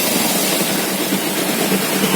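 Kawasaki Z250 motorcycle engine running smoothly after a fuel mixture fix, a loud, steady, dense hiss-like roar close by, with no talking over it.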